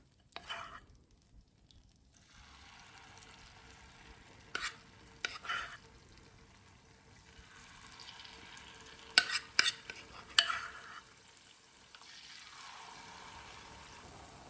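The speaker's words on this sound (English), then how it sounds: "Now I'm going to go in and drop the rest of my fish cakes." Saltfish fishcakes frying in hot oil in a home kitchen, a steady soft sizzle running throughout with a few sharper crackles and clicks of utensils partway through.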